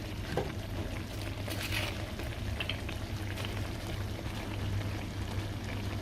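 Corn kernels stir-frying in a pan as water is added, giving a steady bubbling, pouring and sizzling wash with a low constant hum underneath, close and continuous with no voices.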